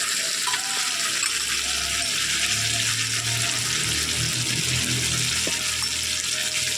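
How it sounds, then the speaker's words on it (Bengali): Water swirled from a spice bowl is poured into masala frying in oil, giving a continuous hissing, bubbling sizzle with a low rumble, steady and close throughout. "মশলার যে বাটি ধোয়া জলটা অ্যাড করে দিলাম"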